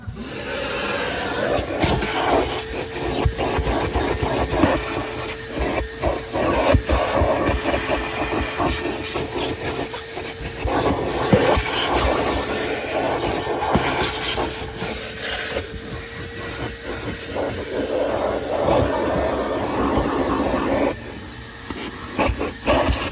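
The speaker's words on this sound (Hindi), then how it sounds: "सबसे पहले हम वैक्यूम अपनी स्टार्ट करेंगे।" A vacuum cleaner runs steadily while cleaning a car's leather interior, a loud continuous whine and hiss with clattering bumps and suction changes as the nozzle moves, briefly dipping near the end.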